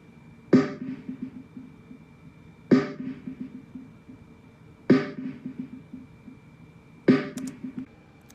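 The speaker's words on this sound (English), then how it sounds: "And the snare sounds like this." A muffled snare drum from a beat kit strikes four times at an even, slow pace, each hit dull and boomy with a short decay, heard alone in a quiet mix.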